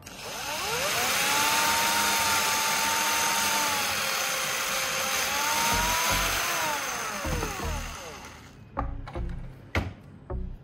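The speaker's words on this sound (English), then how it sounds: "Now I'll use a drill to carefully widen the hole until it matches the diameter of the bolt." A power drill widens a hole to fit a bolt in a craft build from an old LED bulb. The whine is loud and close, its pitch rising and falling for about eight seconds, then it cuts out into clicks and short bursts.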